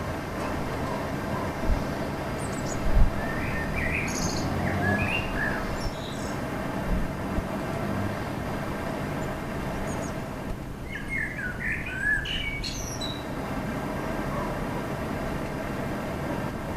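Bird calls from a wild bird at a garden feeder, a few short chirping phrases rising out of steady background noise and low rumble, fairly faint and spaced apart.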